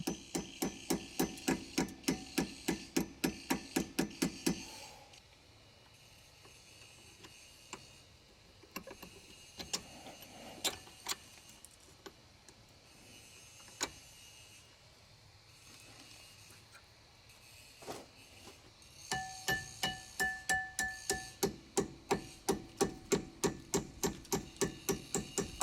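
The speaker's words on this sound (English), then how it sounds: "I used a hammer and punch to gently tap my caliper pins into place." Rapid series of metallic taps from a hammer striking a punch to seat brake caliper pins on a Maserati, close and crisp, in two runs separated by quieter scattered knocks.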